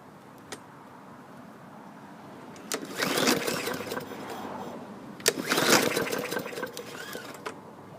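An MTD push lawn mower engine is pulled over in two separate bursts, each a loud rasping crank that coughs briefly and then dies away, with quiet pauses in between.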